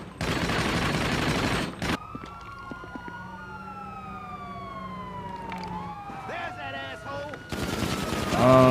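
GTA 5 game audio: bursts of dense, loud gunfire at the start and end, and wailing police sirens sweeping through the quieter middle.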